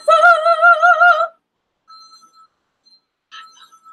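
Telephone ringing sound effect, a loud electronic warbling trill lasting about a second, followed by faint, sparse tones and near silence.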